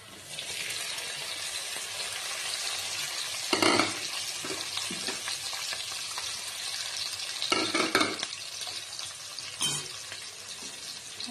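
Stir-frying of fried potato, raisins and ground fresh turmeric in a pan, a steady close sizzle broken by a few louder scraping stirs.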